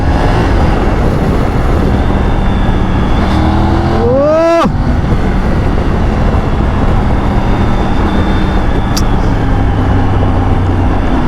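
Triumph Tiger 900 GT motorcycle riding in third gear, a loud constant engine and wind roar with a brief rising whine as it accelerates near the middle.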